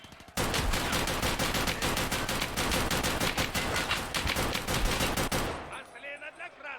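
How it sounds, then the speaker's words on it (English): Rapid automatic gunfire in the video game Escape from Tarkov Arena, a loud sustained burst of dense shots lasting several seconds before cutting off into quieter game sound. "I'm never winning that gunfight."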